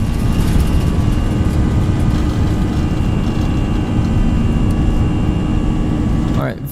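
Airbus A320 jet engines on a takeoff roll in the X-Plane 11 flight simulator, a loud steady roar with a constant whine that holds throughout, then drops away abruptly at the very end.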